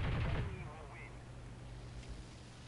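Aircraft machine guns fire in War Thunder from a BF109 K4 fighter, a short loud rattling burst at the start that quickly gives way to a steady engine drone.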